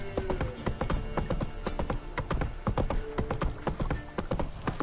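Hooves of Roach, a horse in The Witcher 3 video game, clip-clopping in a steady rhythmic gait up close, with continuous footfalls throughout and faint ambient game sound beneath.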